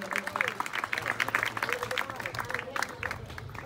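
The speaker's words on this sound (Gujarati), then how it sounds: "આપણે જોરદાર તાળીઓથી અભિવાદન કરીશું" Audience applause at a Gujarat state nutrition campaign felicitation event, with dense, steady clapping from a crowd that holds through the whole moment at moderate distance.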